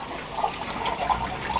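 Water trickles and splashes steadily into a flooded basement, a soft continuous flow with small gurgling bubbles, close by and with no talking.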